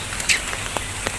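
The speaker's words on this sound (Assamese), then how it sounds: "যিহেতু বৰষুণো দি আছে" Rain falling on outdoor surfaces near a rice seedbed in rural Assam, a steady soft hiss with scattered louder drips and taps standing out briefly, no voices present.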